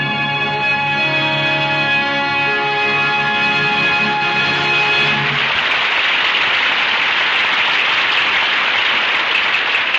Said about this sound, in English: joins the audience here in Hollywood in applauding Sheila Ryan and David Ellis for their performances in tonight's play